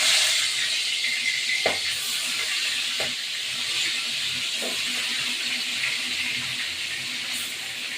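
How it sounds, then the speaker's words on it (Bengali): Chicken pieces rubbed with salt and turmeric fry in a wok, giving a steady, bright sizzling hiss throughout with a few faint clicks and taps. "এটাকে ভাজতে দেবো।"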